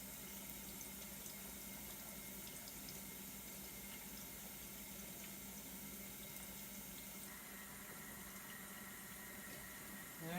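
Tap water runs steadily into a sink to rinse freshly developed black and white film, a faint, continuous splashing hiss with no other sounds.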